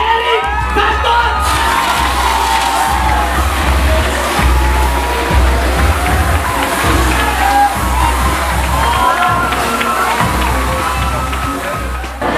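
Loud crowd cheering and shouting at a film premiere event in the Philippines, sustained and dense for the whole stretch, with whoops and children's shouts rising over a steady roar.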